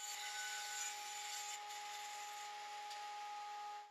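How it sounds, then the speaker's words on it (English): A bandsaw cuts a wooden wheel circle freehand, giving a quiet, continuous whining drone with a faint rasp that holds steady throughout with no voices. "Then over at the bandsaw, I freehand cut the circle out, making sure to stay slightly outside the line."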